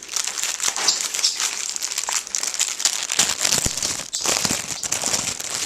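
A cheap dollar-store plastic bag crinkles and rustles steadily while being opened, close and fairly loud, with sharp crackling bursts throughout and no talking.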